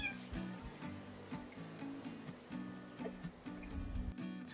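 A rescued kitten meows a few times close by in a home. The calls are short and tonal, with some background noise between them.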